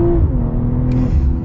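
Engine of a 2023 BMW M340i with the B58 motor accelerating hard in its most aggressive shift mode, a loud close droning rise heard from inside the car.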